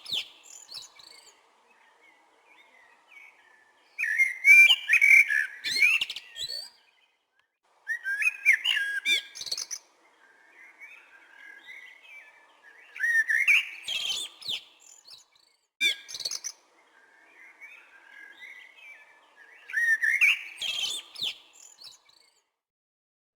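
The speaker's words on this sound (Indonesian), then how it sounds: "Burung tersebut adalah burung ciung batu besar." A Malayan whistling thrush sings clear, rising whistled phrases in repeated bursts separated by short quiet gaps, with faint chirps in between.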